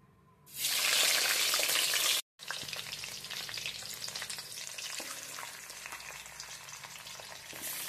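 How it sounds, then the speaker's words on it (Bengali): Fish heads dropped into hot mustard oil burst into a loud, bright sizzle, briefly cut off, then a steady crackling fry continues close up. "এক এক করে আমি সব মাছের মাথাগুলো ভেজে নেব।"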